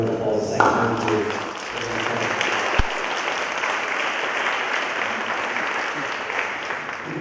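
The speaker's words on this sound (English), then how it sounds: "So I just want to start off with a round of applause saying thank you." At an honor society induction ceremony, an audience fills the room with dense, sustained applause. A voice is heard briefly at the start, and the clapping stays steady and full for the rest.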